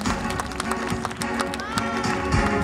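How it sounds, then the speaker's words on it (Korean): Applause from a festival crowd at the opening ceremony of the Goseong scallop seafood festival, a dense steady clatter of many hands over an amplified hum, filling the whole short stretch. "큰 박수로 환영해 주시기 바랍니다"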